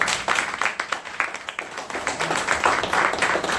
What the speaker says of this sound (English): give us a nice applause for our brother who volunteered his services to us, Brother William Murray.